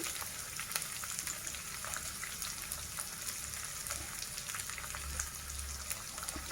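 Chopped onions frying in oil for a beetroot fry, a constant crackling sizzle with scattered pops, close up and steady with no talking.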